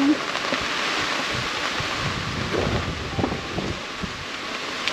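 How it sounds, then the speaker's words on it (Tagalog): Heavy rain pours down steadily in a dense, continuous hiss, with low rumbling underneath and no talking. "Grabing lakas na ng ulan."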